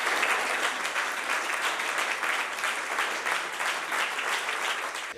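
Sustained audience applause for a speech by Carlo Nordio at a regional lawyers' association meeting in Venice, a dense, steady clapping that fills the room from start to finish with no talk over it.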